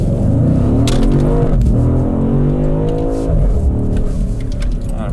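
A BMW M850i pulls away in first gear with a deep engine note rising in revs, dropping briefly at a shift point and climbing again, loud and close from inside the car with no talk.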